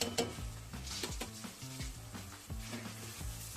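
Tomato gojju with chili, sambar and turmeric powders sizzles in hot oil in a pan, while a spoon scrapes and clinks in a steady stirring rhythm, close and fairly soft.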